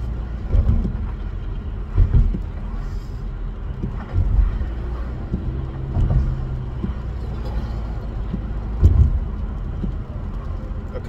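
Low rumbling road noise fills a moving car's interior, with soft thumps and swells recurring every couple of seconds as it drives, steady and fairly loud.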